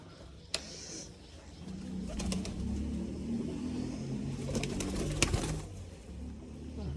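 A pair of pigeons, a red-headed cock and a hen, coo in a low, steady rumble close by, with a few sharp clicks or taps and a faint engine-like hum beneath.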